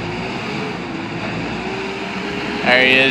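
A 2007 Caterpillar TL943 telehandler's diesel engine idles steadily with a low hum and faint tonal whine, rising slightly louder near the end.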